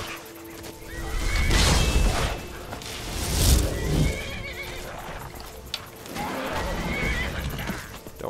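In a fantasy video game, a horse whinnies loudly and its hooves clip-clop, with a couple of neighs rising and falling over the hoofbeats and a brief crashing thud midway.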